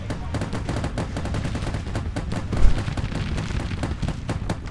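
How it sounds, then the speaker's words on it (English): Machine gun fire in the Grand Tactician Civil War strategy game: a steady, rapid stream of dense popping shots runs continuously throughout at moderate loudness, with one slightly louder burst midway and no talking. "I guess that's the machine gun."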